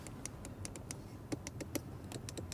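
Light plastic clicks from the interior window and door levers of an Audi RS7 Performance, a string of quick, faint, uneven taps over a low background hum.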